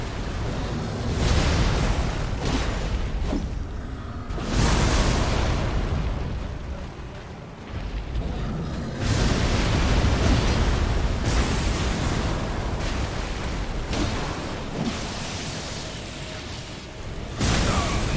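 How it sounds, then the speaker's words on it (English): Explosions in Elden Ring, a series of heavy booming blasts with rumbling, surging bursts that swell and fade repeatedly, loud and close, with little talk over them. "I couldn't get out of the range of the explosion."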